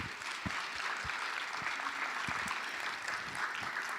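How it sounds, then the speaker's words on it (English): Audience applause at an international education forum session, a steady wash of clapping from a large hall with a few sharper nearby claps, sustained at an even level throughout. "Let's give them a big round of applause once again."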